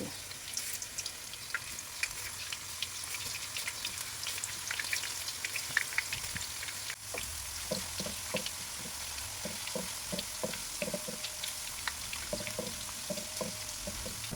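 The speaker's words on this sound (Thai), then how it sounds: "น้ำมันร้อนแล้วนะคะ เราจะใช้ที่ปอกผลไม้แบบนี้ ค่อยๆใส่ กล้วยนะคะ ให้เป็นแผ่น ใส่ลงไปเลย" Banana slices, unpeeled with the skin on, frying in hot oil in a pan, giving a faint steady sizzle with crackles and pops that come closer together later on, and no one talking.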